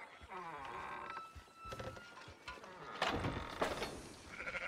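Several sheep bleat close by, one after another, over a noisy background, in the video game Red Dead Redemption 2.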